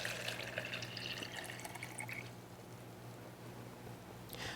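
Liquid pouring from the narrow edge of a bedpan into a graduated cylinder, a faint watery trickle and drip that tapers off, close and quiet with no talk.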